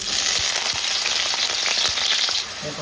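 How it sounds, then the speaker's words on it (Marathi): Potato pieces fry in hot oil for a Navratri fasting mixed-vegetable dish, producing a loud, constant, close-up sizzle that holds steady throughout with no one speaking. "बटाट्याच्या पोळी टाकल्या तेलात"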